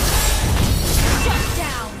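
Turret destroyed in the Mobile Legends battle game: a dense, loud burst of crashing, booming game effects with a continuous low rumble across two seconds, fading slightly at the end.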